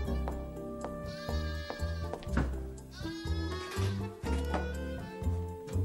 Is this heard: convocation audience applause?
no